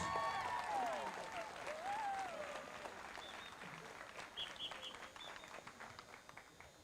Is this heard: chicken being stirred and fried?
no